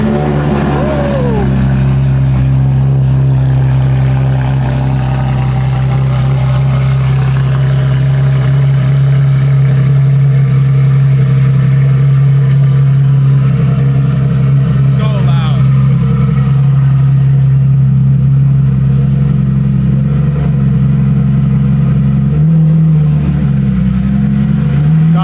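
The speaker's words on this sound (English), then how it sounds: "Nice cold start." Porsche 911 GT3 RS Weissach with an aftermarket exhaust and straight pipe, cold-starting into a loud, steady high idle with a deep sustained drone and a brief blip near the end, close to the listener.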